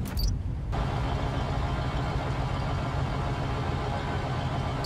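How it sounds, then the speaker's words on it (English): In the Spider-Man: Miles Morales video game, a fire truck engine rumbles steadily at a low pitch, holding a constant drone throughout with no speech. "Sounds like a fire truck."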